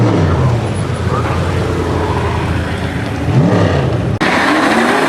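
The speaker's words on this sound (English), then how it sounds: "Foxbody Mustang here, Lucas lane, taking off the first" A Foxbody Mustang launches from the line in a drag race, its engine roaring loudly with rising revs and shifts over crowd and track noise, and an announcer talks over it.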